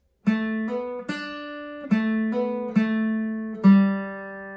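A solo guitar plays a short lead phrase of ringing single notes, some slurred smoothly together, clear and close with no voices.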